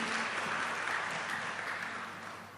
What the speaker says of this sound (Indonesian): kita beri aplaus lagi untuk jawaban beliau